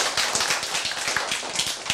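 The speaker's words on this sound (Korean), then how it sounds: "박수!" An audience claps together in a lecture hall, a dense, continuous patter of many hands at moderate loudness, with no speech.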